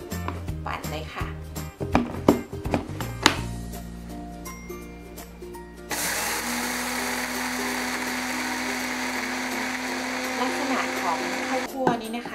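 A blender grinds roasted rice, whirring steadily and loudly, starting abruptly after a few seconds of clattering and a voice, then grinding continuously to the end.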